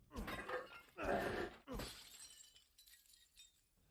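Objects smashed with a knife in a Resident Evil game, three quick crashing shatters with crunching debris, spaced about half a second apart and fading out, faint and close.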